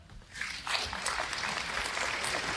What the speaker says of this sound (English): All of you are clapping.